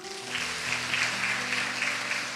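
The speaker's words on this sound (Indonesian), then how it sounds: "Tepuk tangan dong." A church congregation applauds during a sermon, a steady, full wash of many hands clapping at once that fills the room with no speech over it.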